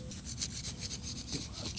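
A hori-hori garden knife scrapes and rasps through mulched soil while cutting a trench, giving quiet, close, repeated gritty scratching strokes.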